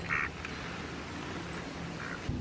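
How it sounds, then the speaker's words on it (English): A duck beside a goat pen quacks twice, faint and somewhat distant, with the calls spaced about two seconds apart over a steady outdoor background hiss. "That duck is in love with Luna."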